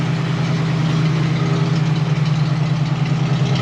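The engine of a 1966 Ford F100 shop truck idles steadily and loud nearby, a continuous low, even hum with a faint rhythmic pulse and no speech.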